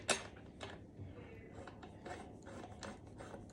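Cranks on a custom BMX bike being turned, the freewheel ratchet giving soft, quick clicking runs in a few separate bursts, close and faint.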